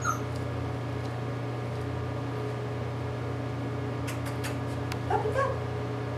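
A female puppy gives a few brief high whimpers and yips near the end, close but fairly soft over a steady low electrical hum.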